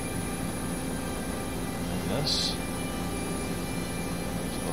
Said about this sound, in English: Now, I've never flown a helicopter in this,